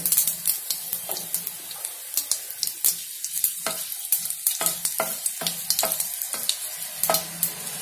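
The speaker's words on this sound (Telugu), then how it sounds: "ఎండుమిరపకాయలు 3-4 సన్నగా ఉంచుకొని వేసుకోవాలి." Cumin and dried red chillies spit and crackle in hot oil with a steady sizzle, broken by frequent sharp pops and the scrape of a stirring spoon, close and fairly loud with no voices.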